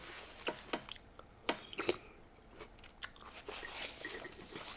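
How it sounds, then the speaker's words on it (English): Someone eating clam chowder with corn, with wet crunchy bites and soft chewing close to the mic in quiet surroundings, several sharp crunches clustered near the start, then slower mastication. "Just have to chew good."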